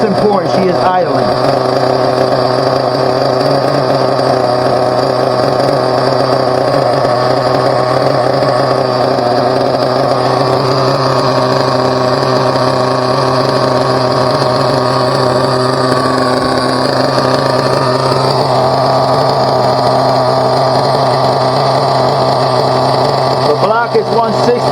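A Team Associated MGT 4.6 nitro RC truck engine idles steadily, a loud, continuous high-pitched buzz with a slight warble, close by, with talk over it.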